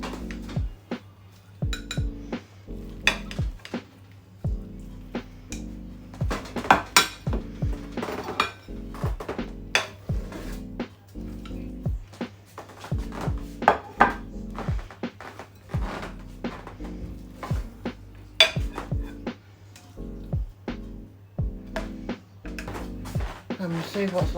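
Oven-baked dinner dished out onto plates in a home kitchen, repeated close clinks and clatters of cutlery and dishes in irregular bursts with a few dull thunks, someone talking in between.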